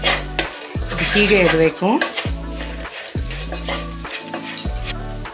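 Bitter gourd, already deep-fried in oil, dry roasting in a pan while being stirred in repeated scraping strokes, with clinks of a utensil against the pan and a soft sizzle; a voice speaks briefly.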